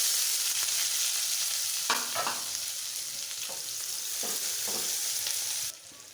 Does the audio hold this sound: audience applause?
no